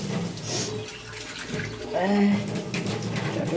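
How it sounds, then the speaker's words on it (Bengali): Water runs from a kitchen tap while paneer and cauliflower dalna is cooked, a steady close splashing flow heard under a person talking. "কলের আওয়াজ"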